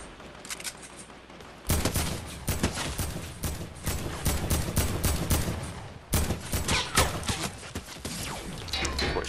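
Rapid bursts of gunfire in the Fortnite Battle Royale video game, sharp repeated shots in clustered volleys with short gaps, loud and close.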